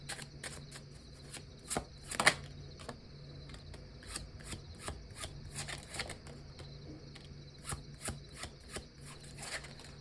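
Tarot cards are shuffled by hand close up, a quiet series of crisp flicks and soft riffling slaps in an irregular rhythm, with no voices over them.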